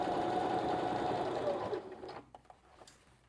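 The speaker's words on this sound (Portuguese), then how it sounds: "E vou costurar sem medo." A sewing machine stitches elastic in a rapid close whir that stops partway, followed by a few faint clicks and handling sounds.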